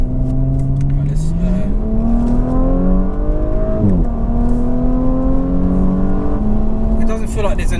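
An Audi S5's engine climbs through several gears, each rising whine cut off by a crisp shift and a drop in pitch, loud from the cabin with a voice speaking over it.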